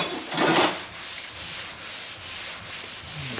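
A metal file works along the front fender of a 1977 Camaro Z28 to adjust panel gaps, giving close, steady rasping strokes in an even back-and-forth rhythm with no talking.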